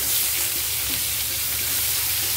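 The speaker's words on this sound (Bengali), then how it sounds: "এঁচোড়টা ভালোভাবে ভেজে নেব, লাল করে ভেজে নিতে হবে।" Chunks of young jackfruit and potato fry together in a pan, releasing a steady, close hissing sizzle with faint stirring, no talk.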